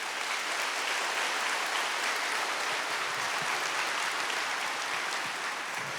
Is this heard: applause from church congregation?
yes